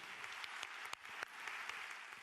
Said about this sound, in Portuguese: um aplauso para eles